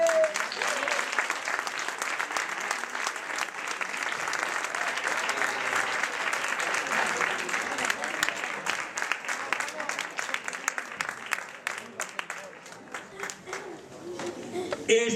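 An audience claps for a puppet group entering the stage, dense, continuous applause at moderate distance that holds for about fifteen seconds before thinning slightly at the end.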